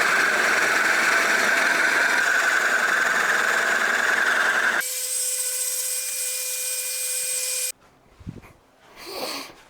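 A power saw cuts wood pieces for bar stools with a loud, steady whirring drone that shifts to a higher whine partway through, then stops, leaving brief rubbing and handling noises.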